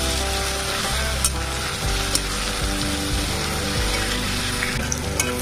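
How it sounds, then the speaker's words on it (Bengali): Onions fry in a pan with tomato, a loud, continuous close-up sizzle with a low hum underneath and occasional clinks of stirring. "এই যে পেঁয়াজটা এখন ভাজা হয়ে গেছে"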